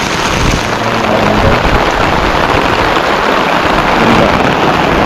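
Steady heavy rain pours down on a rural farm with calamansi and sugarcane, a dense, continuous hiss that stays loud and even throughout with no voices.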